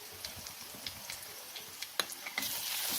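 Sambar masala and turmeric sautéing in a pan for sambar, a soft steady sizzle with faint scraping stir strokes and a brighter crackle near the end, close and alone.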